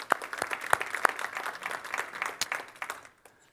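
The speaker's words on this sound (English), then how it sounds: "we'll give you a round of applause" An audience at a symposium applauds, a scattering of claps with a few sharp ones near the start, fairly faint and tapering off toward the end with no talk over it.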